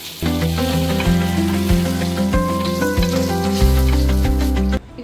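Paneer frying in ghee in a pan gives a steady sizzle that runs through the whole stretch, partly buried under loud background music with sustained notes.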